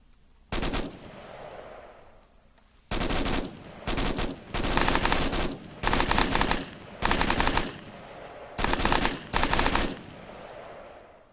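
Sustained automatic gunfire from a video game battle near a tank, coming in several loud, dense bursts of about a second each with short pauses between them.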